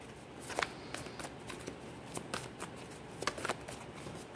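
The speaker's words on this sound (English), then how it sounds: "Just going to throw some cards." Tarot cards being shuffled and tossed out, a close, soft flurry of papery riffles and flicks with a few sharper snaps, over a steady hiss.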